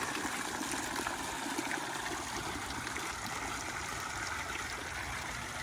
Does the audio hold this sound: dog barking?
no